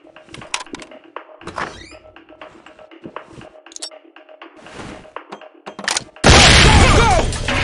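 In the SWAT 4 game, a door is opened amid scattered thunks and clatter, then a thrown flashbang bursts into a loud, sudden blast of noise that lingers to the end.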